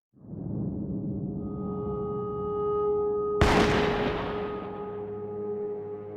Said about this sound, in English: Those shots just now were 22 caliber.